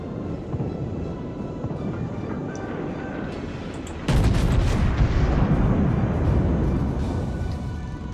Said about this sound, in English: Bismarck is continuing to fire at me.